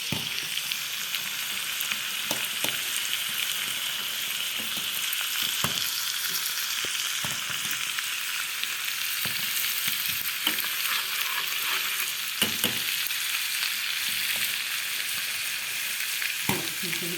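Garlic frying in hot fat on a stovetop for molokhia, a steady close sizzle with occasional stirring scrapes and clicks running throughout, no talking.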